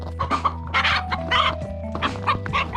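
Chickens in a barn coop cluck and mutter continuously, several birds close by with overlapping calls and a constant low hum of background noise.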